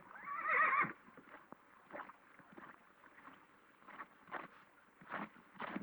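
A horse whinnies loudly for about a second, then quieter scattered noises and faint thuds follow through the rest of the clip.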